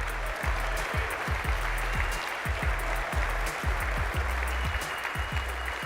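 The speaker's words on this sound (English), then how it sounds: "Please give him a round of applause." Audience applause at a sustainable chef cooking competition grand final, continuous clapping with a series of low thumps punctuating it.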